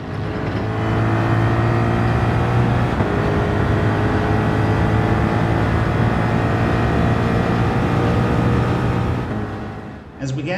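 Ford Mustang race car with a Coyote V8 engine in Gran Turismo, a loud sustained engine drone holding steady at high revs down a straight, then dropping away at the end.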